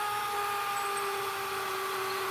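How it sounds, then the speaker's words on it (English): Power drill with a brad point bit boring a pilot hole in wood for a screw while building a Civil War field cot, a steady, continuous whine that stays even and close with no talk. "drilling your pilot hole for your front screw"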